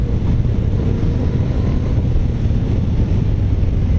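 Yamaha Tracer 900 motorcycle engine, a steady, loud, dense low rumble that holds throughout with wind buffeting mixed in and no pauses.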